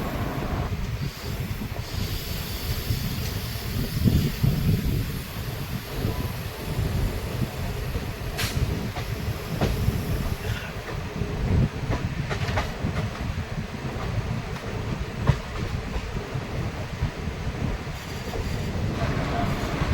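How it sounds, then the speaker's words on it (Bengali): A passenger express train rolls into Rampurhat Junction in early morning, a steady low rumble of wheels and carriages with faint rail clatter and wind buffeting the microphone throughout, continuous and fairly close. "সকাল 5:20 ট্রেন এসে পৌঁছালো রামপুরহাট জংশন।"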